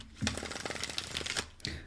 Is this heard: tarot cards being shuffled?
yes